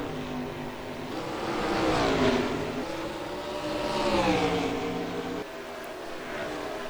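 Race cars circling Bristol's short oval in a video game, engines droning loudly and continuously with rising and falling pitch as packs pass, no talk.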